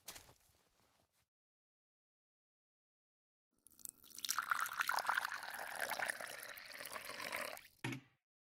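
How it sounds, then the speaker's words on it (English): Watering can pouring water onto plants in the video game Martha Is Dead: after a quiet pause, a close steady splashing stream runs for about four seconds, then stops abruptly with a final short trickle. "Now that I have filled the watering can, I can water the plants"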